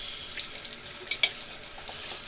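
Water runs steadily from a kitchen tap into a sink while a meal of fried chicken legs with buckwheat and sauce is prepared, a continuous close hiss with a few brief splashy surges, no one talking.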